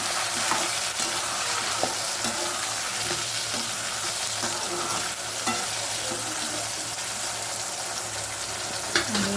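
Tomatoes fry in a pan for poondu kulambu, a South Indian garlic curry, with a continuous close sizzle and occasional scraping taps as they are stirred. No one speaks.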